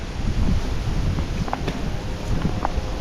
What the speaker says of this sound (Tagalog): Taas ng hangin dito.